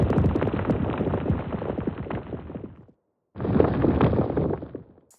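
Designed layer of crunching, grinding rocks built for a creature's sound design: two dense, loud stretches of gritty rumble and clatter separated by a short gap of silence.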